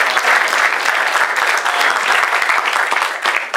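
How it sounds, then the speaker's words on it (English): Dense, steady applause from a crowd at a Miami startup meetup, loud and continuous throughout with no talking over it. "We're giving everybody a round of applause."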